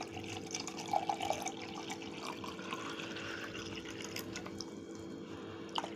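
Water is poured into a mango mint sherbet made with crushed green mango, mint paste, black salt and sugar; a faint, close trickle and splash with a few small drips, quiet and intermittent.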